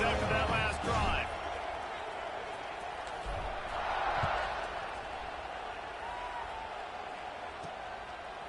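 Stadium crowd in a college football video game, a steady roar of spectators swelling and settling, with game commentary speaking over it.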